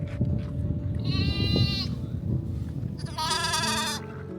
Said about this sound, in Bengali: bring male sheep, okay?